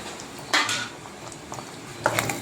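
A spoon clinks and scrapes against a metal cooking pot while tamarind curry with rock salt is stirred, two sharp clatters about a second and a half apart with softer scrapes between, close and clear with no talking.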